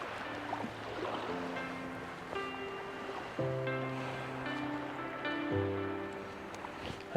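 Incoming tide washes onto a Bristol Channel fishing beach as a steady, soft surf rush, with continuous sustained tones running alongside throughout.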